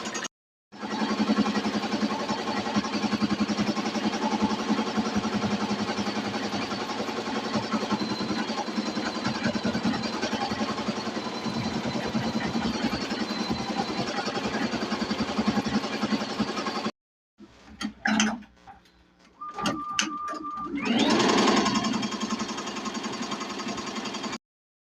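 A Tajima Sai 8-needle embroidery machine stitching a blanket, running with a steady loud mechanical hum and rapid chatter, briefly pausing, then resuming with a few louder clunks and a whirring shift.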